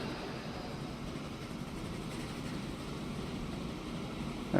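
Locomotive train running in the Transport Fever 2 video game, a faint steady rumble of rolling rail wagons with no talk over it.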